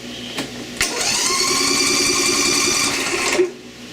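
A Toro TimeCutter MAX 77505 zero-turn mower engine on choke: a sharp start, then a steady, loud, buzzing mechanical drone for about three seconds before it cuts off abruptly.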